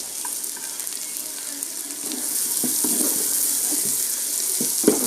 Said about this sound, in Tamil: வெங்காயம் கொஞ்சம் நல்லா வதக்க விட்டுடலாம்.